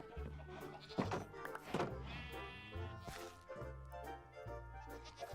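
Several Minecraft sheep bleat in wavering calls, with a couple of dull thunks between them, fairly quiet and close.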